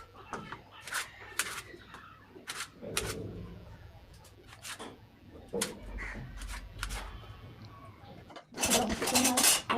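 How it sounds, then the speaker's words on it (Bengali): A knife chopping beans, tomatoes and potatoes on a board in a home kitchen, with irregular sharp taps and short bursts of cutting, followed by a louder clatter near the end. "এবার আমি সিম আর টমেটো আর আলু কেটে নেব মাছের ঝোলের জন্য"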